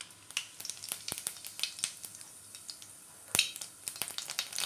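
Cumin seeds crackle and spit as they drop into hot oil, a close, busy run of sharp pops and sizzle that bursts louder once midway, with no voice.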